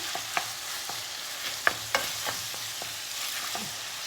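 Minced meat and broccoli fry in a pan, being stirred for pasta, with a steady soft sizzle broken by irregular scraping clicks and a few sharper knocks of the utensil against the pan.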